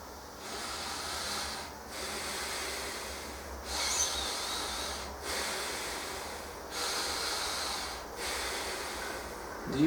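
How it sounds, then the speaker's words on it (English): Slow, deep diaphragmatic breathing during a breathing meditation, heard up close as about five long, airy inhale-exhale cycles in a steady rhythm, with no talking. "Deep breathing from the diaphragm."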